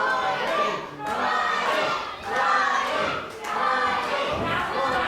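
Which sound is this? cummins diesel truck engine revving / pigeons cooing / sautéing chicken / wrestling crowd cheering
wrestling crowd cheering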